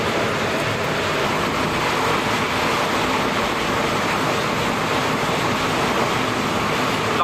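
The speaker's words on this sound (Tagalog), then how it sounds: "Lakas ng ulan, no?" Heavy rain pours down steadily and loudly, a dense unbroken roar of water that fills the whole scene from start to finish with no pauses or voices.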